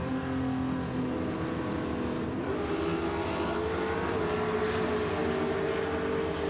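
Drag race between a naturally aspirated 350 Chev in a Torana and a nitrous-assisted Barra Turbo, engines droning loud and steady with rising pitch as they accelerate down the strip, no voices over the roar.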